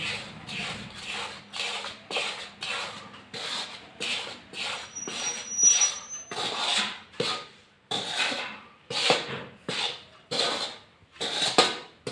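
Besan flour stirred in a pan for laddu, giving steady rhythmic scraping strokes roughly once a second, close and continuous with no talk.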